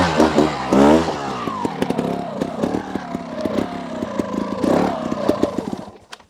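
A Beta Evo 200 trial motorcycle climbing round a corner, its mid-pitched engine revving up and down in quick surges with clattering, then fading away at the end.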